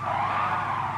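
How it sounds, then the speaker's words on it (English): A car in GT Sport skids and spins out, a loud sustained tire squeal over engine drone that holds steady for about a second with no voices. "I usually don't spin out as much as I did."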